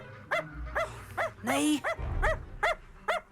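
A dog yelps and whines in a run of short, sharp, high-pitched cries about every half second, close and loud, while a person speaks briefly over it.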